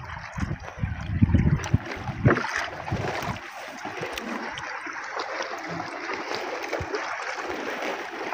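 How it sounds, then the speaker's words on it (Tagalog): Water sloshes and churns with a rushing wash, louder bumps early on, settling into a steady splashing hiss as a boat moves through it. "Palapit na dito kay Gihila ni Kuya Jeffred."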